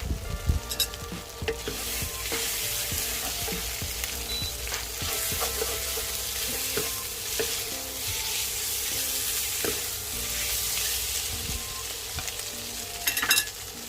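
Mushroom stems stir-fried dry with holy basil leaves for a vegetarian Thai krapao, a steady loud sizzle running throughout with spatula scrapes and clicks against the pan, no voices.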